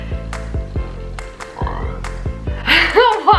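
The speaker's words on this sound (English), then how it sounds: "so it just does this croak, and I feel like I can't breathe when talking" Throat croaking from a failed burp, a series of low rattling creaks repeated in a rough rhythm, close and fairly loud, ending in a louder strained burst.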